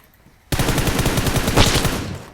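Automatic gunfire in the mobile battle royale game PUBG Mobile: after brief quiet, a loud rapid burst of shots rattles on continuously for about two seconds.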